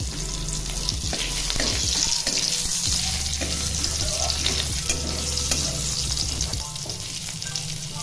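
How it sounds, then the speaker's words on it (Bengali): Slit green chillies, a pinch of asafoetida and a bay leaf sizzle in hot oil, a steady close frying hiss with light stirring scrapes throughout. "বাকি তেলটার মধ্যে আমি দিয়ে দিচ্ছি দুটো চেরা কাঁচা লঙ্কা আর দিচ্ছি দেখুন সামান্য হিং আর একটা তেজপাতা।"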